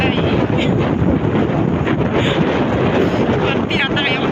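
Strong gusty wind roars steadily and loudly across the microphone outdoors on a trip from Imus to General Trias, Cavite, buffeting throughout with a person speaking over it.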